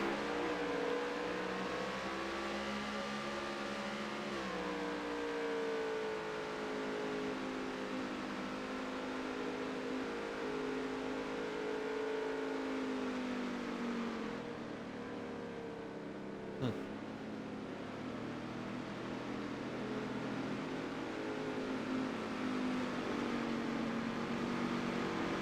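A pack of race cars leaving pit road at Phoenix under the lights, several engines droning and shifting pitch together in a continuous loud roar that holds steady with a brief sharp burst partway through.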